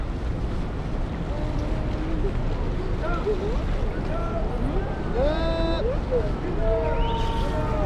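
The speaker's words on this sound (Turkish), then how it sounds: "Evet teknemiz de geldi." A small tour boat's engine hums steadily over wind and lapping water near Niagara Falls, while children's voices and chatter carry in the background.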